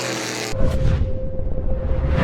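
Race cars in a drag race for fourth place during a family fun night at New Smyrna, with engines roaring at full throttle as a loud sustained rumble that surges after a brief quieter start.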